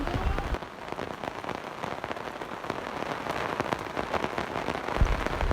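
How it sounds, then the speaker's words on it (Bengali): Heavy rain pours down during a fierce storm, a dense, constant hiss of drops striking surfaces, with scattered sharper pattering and a few louder thumps rising out of the steady roar. "প্রচণ্ড জল বৃষ্টি হচ্ছে এখনও, কখন কমবে কে জানে।"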